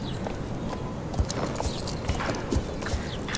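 A Haflinger horse in the Star Stable Online video game backs up, its hooves making soft, irregular clip-clop steps over a steady background hiss, with no voices.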